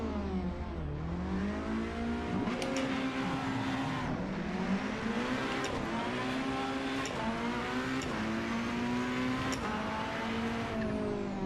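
Race car engine in Assetto Corsa Evo revs and shifts repeatedly while lapping a track, pitch climbing and dropping with each gear change, loud and continuous with a few tire squeals.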